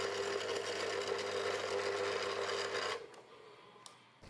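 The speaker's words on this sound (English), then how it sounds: "So I've turned to drilling holes straight through them" A small drill grinds steadily through plastic keyboard parts in a continuous buzzing whine for about three seconds, then stops abruptly, leaving faint clicks and light handling noises.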